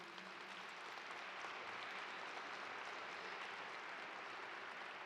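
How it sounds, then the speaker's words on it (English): Sustained applause from a large crowd at an MLK Day convocation, steady and dense throughout, heard alone without speech. "while you're clapping"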